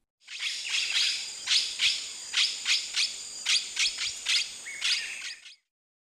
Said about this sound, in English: Blue-headed parrot.